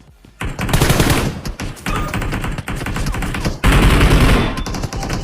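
Rapid bursts of automatic gunfire in the video game PUBG during a fight at Rozhok, loud and dense, several volleys separated by brief pauses.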